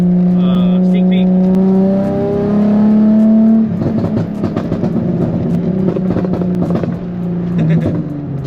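A Nissan 350Z drift car engine revs hard close by, its pitch climbing then dropping into loud, choppy crackling pops as it shoots flames.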